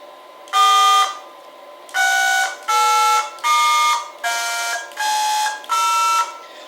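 Seven bright electronic beep tones from 4th Season control pod buttons, each held about half a second with short gaps between, varying slightly in pitch, clean and close with no talking.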